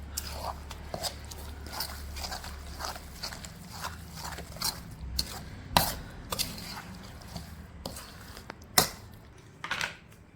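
Cumin powder stirred into a soya chunk (meal maker) pickle, heard as a steady run of sharp, close clicks and taps of a utensil against the mixing vessel, with a few louder knocks and no voices.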